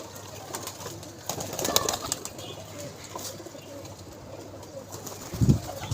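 Pigeons at a pigeon club, with soft wing flaps and faint coos over steady low background noise, and a brief louder flutter near the end.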